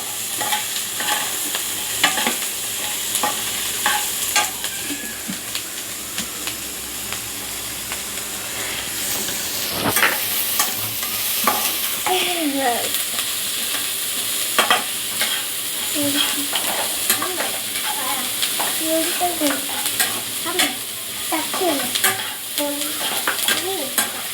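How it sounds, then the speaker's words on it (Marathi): Okra stir-fried in a pan until browned, giving a steady loud sizzle and hiss with frequent scraping and stirring clatter throughout, and no voices. "छान परतून घ्यायचं आपल्याला. ब्राऊन होईपर्यंत."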